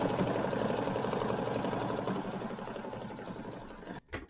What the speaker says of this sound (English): I'm going to leave my same color in and do the satin stitching